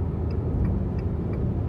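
Fiat Toro with a 2.4 engine and nine-speed gearbox accelerating while driving, a steady low cabin rumble of engine and road noise with faint ticking, heard from inside the car with no talking.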